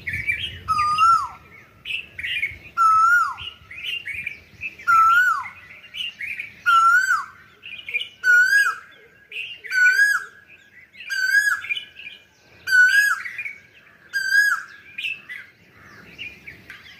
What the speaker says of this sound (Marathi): हाय कोकिळ